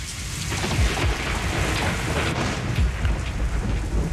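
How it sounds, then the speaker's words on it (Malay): Steady heavy rain pours outside at night with rolling thunder rumbling through it, a dense continuous wash of rainfall with no voices. "Di luar masih hujan."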